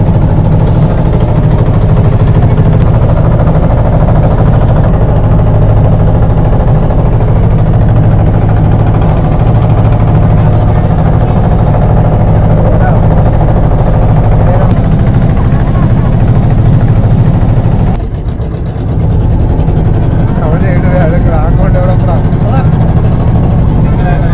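A loud, constant low boat engine drone rumbles throughout, with voices talking over it and wind buffeting nearby.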